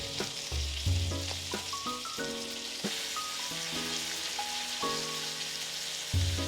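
A thick steak frying in a pan crackles and sizzles steadily at close range, with a busy popping texture throughout and no voices.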